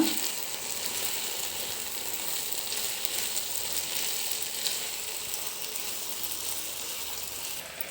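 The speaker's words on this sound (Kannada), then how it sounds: "ನೆನೆಸಿಟ್ಟಿರ್ತೀವಲ್ಲ ಅದನ್ನು ಅದೇ ನೀಟಾಗಿ ತುಪ್ಪದಲ್ಲಿ ಹುರ್ಕೋಬೇಕು ಸಬ್ಬಕ್ಕಿನ" Soaked sago pearls frying in ghee for sago payasa give off a steady, even sizzle that holds at a moderate level from start to finish, with no voices over it.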